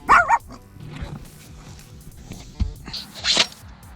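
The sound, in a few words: police dog barking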